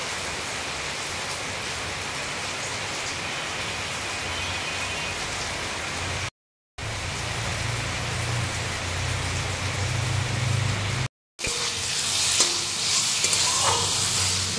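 Potatoes and spices being sautéed in a pan, a loud continuous sizzle with stirring, briefly cut out twice, turning brighter and hissier near the end.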